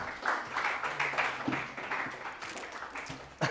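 A training group applauding in a room, a few seconds of continuous close clapping with scattered individual claps and faint voices mixed in.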